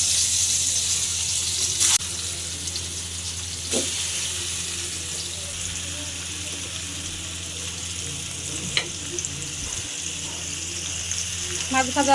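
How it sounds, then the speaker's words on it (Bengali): Fish fry in hot oil in a pan, a continuous even sizzle with a few brief clinks and taps from handling, steady and fairly close throughout. "মাছ ভাজাটা শুরু করে দিলাম।"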